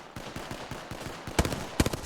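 Gunfire in a video game, a run of evenly spaced shots that shifts into louder, denser bursts near the end, close and sharp with no talk over it.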